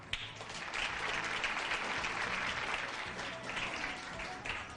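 A quiz-show audience applauds the winning contestant, a full, continuous wash of clapping from a crowd, steady in level across the whole stretch.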